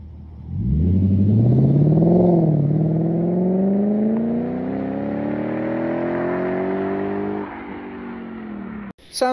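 A 468 hp Lexus GS F with resonators and mufflers and no secondary cats revs up loudly nearby, rising in a smooth climbing tone, briefly dipping, then holding a strong sustained pull before cutting off abruptly.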